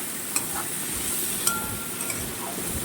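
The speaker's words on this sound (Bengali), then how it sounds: "এটাকে একটু ভালোভাবে নাড়তে হবে," Dal with meat cooks in a pan under a steady sizzle and fry, while a spoon stirs it and knocks against the metal in a few sharp, scattered clinks.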